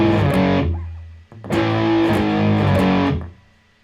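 Two sustained distorted electric guitar chords ring out one after another, thick and buzzy, each held for over a second before fading.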